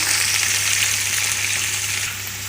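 Sliced large onions dropped into hot oil in a pan while making kapsa with ration rice, giving a loud, steady close-up sizzle and hiss that eases slightly near the end, with no voices.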